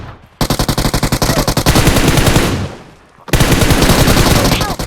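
Machine gun fire in a multiplayer shooter game: long rapid bursts of close, loud automatic shots with a short pause between volleys, and players talking faintly underneath.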